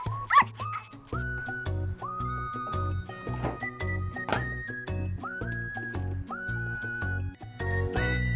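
A dog whimpers in high, wavering whines and gives a few short yips, repeated in bursts over a steady low background hum, close and moderately loud.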